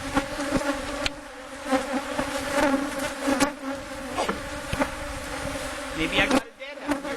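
Honeybees buzzing steadily in an opened hive during an inspection, a close, continuous droning hum with a few sharp knocks and clicks of hive parts mixed in.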